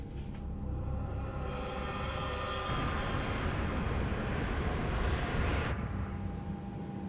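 A passenger airliner flying from Berlin to Zurich gives out a steady, loud, broadband engine roar that holds constant through the whole stretch, with no voices.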